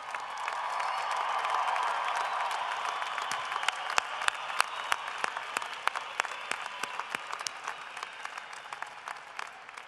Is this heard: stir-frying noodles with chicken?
no